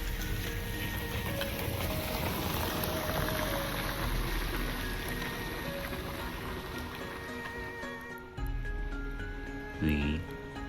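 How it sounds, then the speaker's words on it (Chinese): Steady rain falling on old stone slabs in an ancient walled city, a soft, even patter that fills the scene throughout, with a brief louder splash near the end. "雨落在石板上，像是在重复很久以前的声音。"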